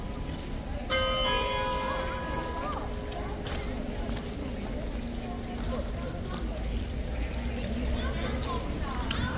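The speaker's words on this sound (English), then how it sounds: "For 1 minute, in fact, it's going to chime." Bells chiming at Horse Guards in London, ringing out clearly near the start and then continuing under crowd noise, with people talking throughout.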